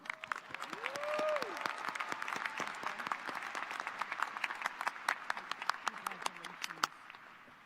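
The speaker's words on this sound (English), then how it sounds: "please join me in a round of applause for Dr." A commencement ceremony audience breaks into a steady round of applause, dense clapping filling the hall throughout; a voice speaks briefly over it near the start before the clapping carries on alone and tapers at the end.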